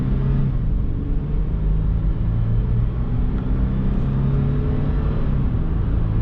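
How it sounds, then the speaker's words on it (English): A Toyota 4Runner Nightshade accelerating onto a highway, heard as a steady loud low engine rumble with road noise and a slight rising pitch throughout, close and continuous with no talk. "we'll start this driving test with a little acceleration onto the highway."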